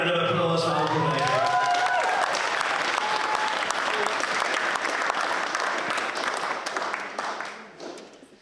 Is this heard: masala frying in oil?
no